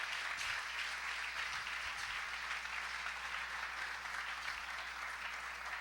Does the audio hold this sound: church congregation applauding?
yes